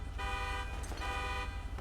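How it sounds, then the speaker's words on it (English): A car horn blaring continuously from a crashed stolen Chevy Silverado pickup, close and steady with a low engine rumble underneath, without speech. "Stop beeping your damn horn."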